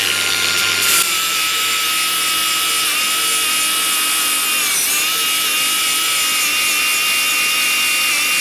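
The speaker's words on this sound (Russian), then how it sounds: "Посмотрим, справится ли наша болгарка вот этот шлиф-круг с этой вот довольно старой и плохой поверхностью." A Heimerdinger LB168 cordless angle grinder runs its grinding disc on second speed against an old, rough surface, pressed hard, giving a loud, steady, high whine with slight pitch dips as the load changes.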